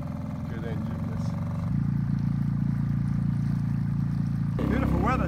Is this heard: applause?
no